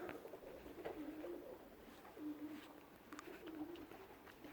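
Homing pigeons coo softly and repeatedly in low rolling phrases, quiet and somewhat distant, over a faint steady background.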